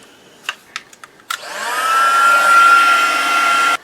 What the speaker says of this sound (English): Pop on my heat gun and just dry off that gesso.